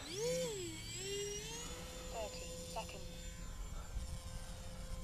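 An Avios Albatross HU-16 V2 radio-controlled seaplane revs up for takeoff, its engine whine climbing in pitch and then holding a steady buzzing drone, with someone talking over it outdoors.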